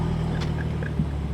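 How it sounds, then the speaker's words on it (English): A BMW F80 M3 sports car exhaust rumbles deeply and steadily at close range, a low continuous burble with no revving. "The exhaust sounds good, it's just very loud and I can't even keep it quiet anymore"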